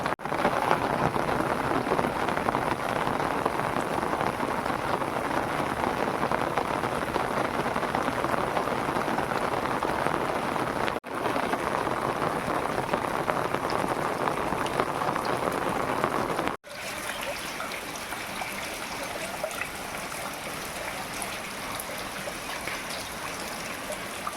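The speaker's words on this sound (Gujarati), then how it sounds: "આમ જોઈ લે કેવો વરસાદ" Heavy monsoon rain pours steadily in Gujarat, a dense hiss of drops drumming on surfaces, unbroken and close throughout.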